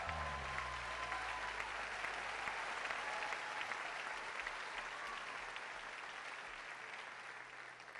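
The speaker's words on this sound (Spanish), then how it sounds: "¡Aplauso!" Steady applause from a large crowd, dense and sustained throughout, tapering slightly toward the end.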